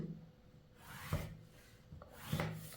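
Chalk or a marker drawn across blouse fabric during tailoring, a few short soft scraping strokes close up, fairly quiet with no voices.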